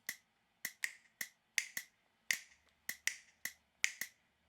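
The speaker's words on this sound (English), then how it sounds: "that's going to represent the metronome click in the bottom stage" A sharp metronome click ticks in a dotted-eighth pattern, about a dozen crisp, dry clicks in an uneven but repeating rhythm, close and alone.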